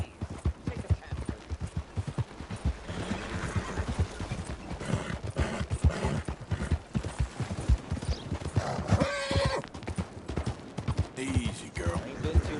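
A horse's hooves clip-clop in quick irregular steps with occasional whinnies, close and fairly loud amid other scuffling movement throughout.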